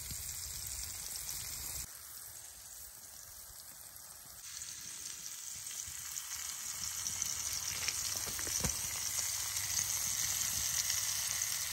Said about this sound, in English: We're just frying these chanterelles in butter in a pan.